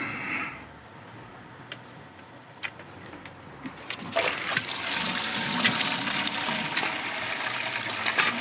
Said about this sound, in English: Then we're gonna let that drain for a minute